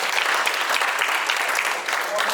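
Dancers and audience at a dance audition in Argenteuil clapping loudly: brisk, dense applause that holds steady across the whole stretch, close and bright, with no talk over it.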